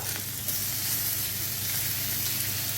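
Butter sizzles loudly and steadily in a hot pan with duck breast, a dense close-up hiss with faint crackles and no voices.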